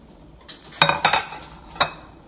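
Metal cloud bread pan tipped over and knocked onto a plate, a few sharp clanks and rattles clustered together, then one final knock, close and clear in an otherwise quiet kitchen.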